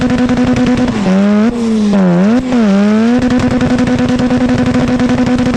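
A twin turbo Mazda RX-7 FC does a burnout, its engine roaring loud and steady with a few quick dips and rises in pitch as the revs swing, no talking.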